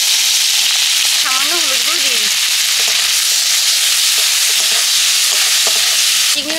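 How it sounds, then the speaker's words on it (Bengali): Shrimp frying in oil in a village kitchen produce a loud, continuous broad hiss of sizzling. A few brief chirpy tones and faint taps rise over it early and late. "এবার আমি চিংড়ি মাছটা ভেজে নিচ্ছি।"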